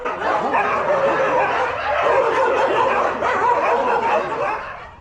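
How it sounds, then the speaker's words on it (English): Many dogs at a rescue shelter in Thailand bark and yelp continuously in a loud, dense chorus, close by, with no pauses. "The barking gets particularly loud when it's feeding time, understandably so."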